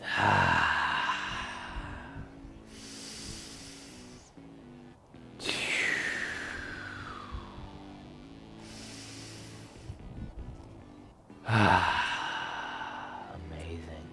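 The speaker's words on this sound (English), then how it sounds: "Now breathe." Deep, slow breathing during an outdoor yoga session near the Golden Gate Bridge, long audible inhales and sighing exhales with gasps, close to the microphone over low background hum.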